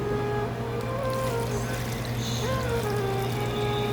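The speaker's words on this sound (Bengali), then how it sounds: "ওখানে হালকা একটু পানি দেওয়া" A little water is poured into a pot of masoor lentils, a soft, close trickle running over a steady low background hum for the whole stretch.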